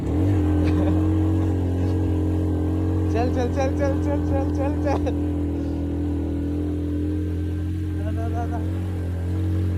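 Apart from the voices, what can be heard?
Honda CD70 motorcycle climbing a mountain road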